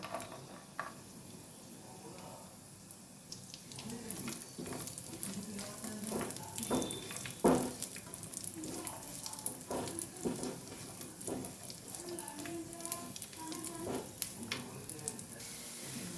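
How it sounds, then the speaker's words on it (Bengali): Cashews and raisins sizzle quietly in hot ghee, a soft continuous crackle with occasional stirring scrapes. "কিশমিশ আর কাজু বাদামটা ভালো করে ভেজে নেব।"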